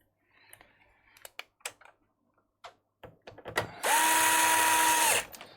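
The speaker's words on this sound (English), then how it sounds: "Just put some back in a few different areas just to get the screws out of there back in." A handheld electric screwdriver drives screws back into an electronic device, beginning with scattered clicks and taps of small parts and then a steady whirring motor burst of about a second and a half near the end.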